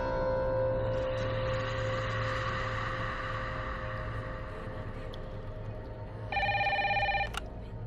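A telephone rings in a home amid a steady background hum, with a brief, louder electronic ringing burst near the end.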